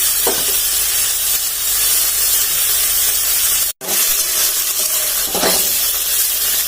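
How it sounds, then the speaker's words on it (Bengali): Steady, loud sizzle of a spice paste of cumin, mustard, ginger, garlic and onion being sautéed and stirred in a pan for a Bengali elephant-foot-yam dish, continuous hiss with a brief dropout midway and no talking. "মশলাটা দিয়ে ভালো করে কষিয়ে নেব"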